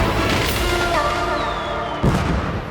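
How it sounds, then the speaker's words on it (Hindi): Fireworks going off at a celebration: continuous dull booms and crackling bursts, with a sharper crash near the end, loud and close. "अरे बंद करो आतिशबाजी।"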